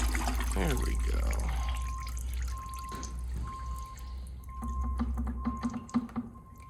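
Engine oil drains from a 2016 Ford Explorer Interceptor during an oil change, making a continuous pouring and trickling sound that turns to dripping and small clinks near the end.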